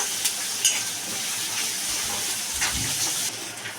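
Chopped onion sizzles steadily in hot oil in a pan, a continuous close frying hiss with faint stirring, ahead of adding alkul leaves for a vegetable dish.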